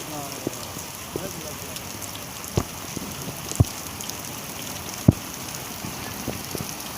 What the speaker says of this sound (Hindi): और बारिश अभी भी काफ़ी ज़्यादा हो रही है।